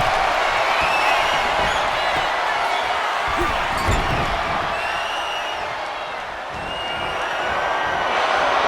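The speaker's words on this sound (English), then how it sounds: "A deafening cheer from the WWE Universe is reverberating around us." A WWE wrestling arena crowd roars and cheers in a steady, loud wash of noise, with whoops and whistles rising out of it before it dips briefly and swells again.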